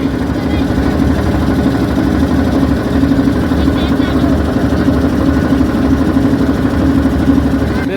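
A boat engine idles at Kashi with a loud, steady mid-pitched drone that holds unbroken throughout, while voices are faintly present beneath it.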